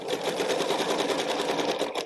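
A sewing machine stitches quilting in a fast, even run of needle strokes, a close steady mechanical chatter that stops abruptly at the end.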